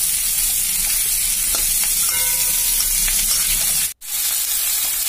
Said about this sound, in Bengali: আলু আর পটলটাকে একটু লাল লাল করে ভাজতে বসিয়েছি।